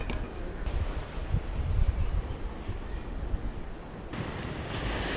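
Surf washes onto the beach at Cala Bona, Mallorca in a steady, faint broadband hiss, with wind buffeting the microphone and no voices.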